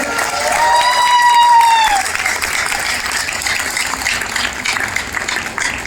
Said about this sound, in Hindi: अरे इतनी ताली नहीं यार, और ज्यादा तालियां बनती है।